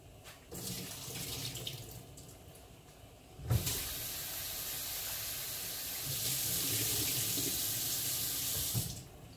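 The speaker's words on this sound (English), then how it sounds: "So now guys, I'm just going to pour out this water." Water is poured out of a cooking pot, splashing steadily into a sink for several seconds, with a brief louder splash partway through and a heavier gush near the end.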